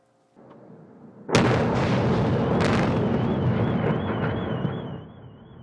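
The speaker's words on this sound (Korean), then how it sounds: "강력한 폭발음과 섬광이 우크라이나 수도 키우의 밤을 흔들어 놓습니다" A Russian air strike on Kyiv at night sets off a sudden massive explosion after a low rumble, followed by a long roaring wash of sound and a wailing siren in the distance.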